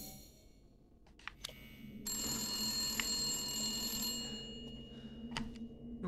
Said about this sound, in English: Pick up phone.